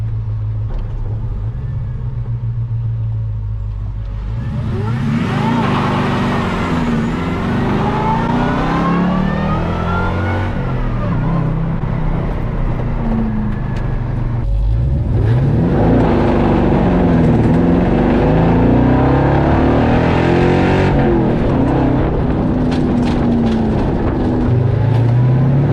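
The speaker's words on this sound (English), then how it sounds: "That makes all the supercharger sounds you'd expect." A supercharged LS engine in a classic muscle truck revs repeatedly, rising and falling in loud rumbling sweeps with a whine on top, sustained throughout.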